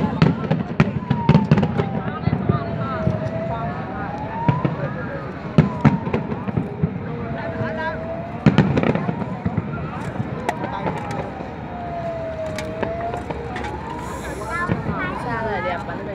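Fireworks at the 2017 Da Nang International Fireworks Festival in Vietnam, during the home team's display: irregular booming bursts and crackles with rising whistles, heard from within a crowd as people chatter throughout.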